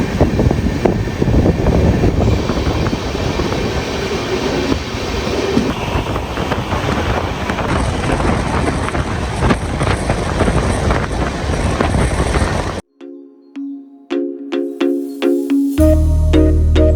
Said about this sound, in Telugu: సో కాజీపేట లోపలికి మన ట్రైన్ ఎంటర్ అవుతుంది.